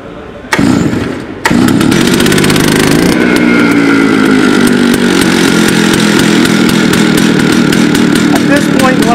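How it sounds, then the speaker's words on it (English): A chainsaw is pull-started: a short burst, then the engine catches and revs loudly up close before settling into a steady, rough idle that runs for several seconds. "this saw should start within the first or second."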